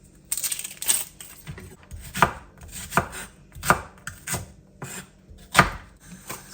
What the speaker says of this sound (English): So I am gonna chop this up roughly